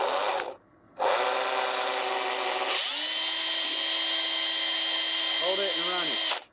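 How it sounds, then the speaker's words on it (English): A power drill spins an RC truck axle (TRX-4) to work in grease, a loud steady whine that briefly cuts out, restarts, then shifts pitch as the load changes before stopping. "I'm going to break it in with my drill"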